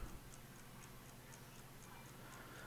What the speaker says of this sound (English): I can hear my clock on my wall